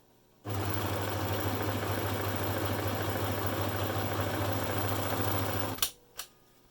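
An overlocker stitches along the top edge of fabric for a sewn face mask, a loud, steady mechanical whir running for about five seconds, then stopping with a couple of brief clicks.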